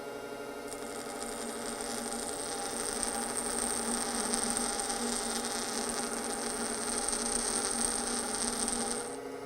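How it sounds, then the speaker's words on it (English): A lathe tool being ground on a bench grinder gives a steady, continuous whine and hum with a high sustained tone, loud and unbroken throughout with no talking. "And I'm just going to start grinding."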